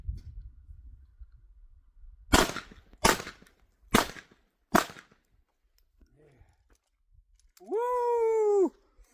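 A Ruger LCP II pistol fires after a reload: four sharp, loud shots spaced under a second apart outdoors, followed by quiet and then a rising whooping voice.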